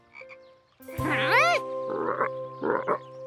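Cartoon frogs croak in a garden pond where tadpoles grew up: a loud, rising, warbling croak followed by two quick bursts of rapid, throaty chattering against a steady musical hum.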